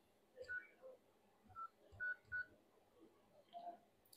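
Keypad dialing tones from an iPhone 11 Pro while its IMEI number is checked: five or six short, separate beeps at uneven intervals, clear and close against a quiet room, with no talking.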